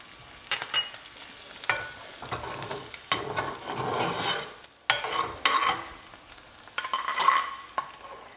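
Fresh cilantro tossed into a hot pan with the heat cut and stirred, giving scraping stirs and soft sizzling in uneven bursts, with a few bright clinks of the utensil against the pan, close up with no talking.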